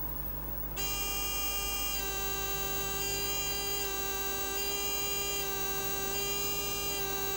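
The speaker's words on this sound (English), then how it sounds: "tone timer on" Ignition timing tester on a Rotax engine emits a steady electronic tone, switching on after a brief pause and holding a continuous, even buzz at moderate level with no talk.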